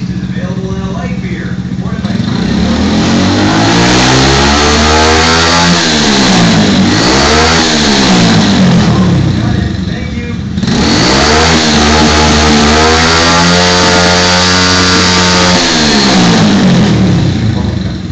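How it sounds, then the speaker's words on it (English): A minibike engine that needs some work revs up hard, close and loud, rising and falling through a few throttle blips over a steady running note. "I'm going to rev it for a moment."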